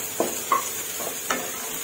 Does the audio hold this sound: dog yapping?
no